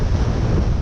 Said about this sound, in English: I can't believe the wind.